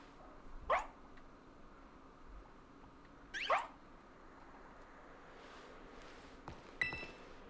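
A Fidough Pokémon in Pokémon Violet gives two short, bright synthesized barks a few seconds apart, followed by a fainter yip, over quiet game background with no talking.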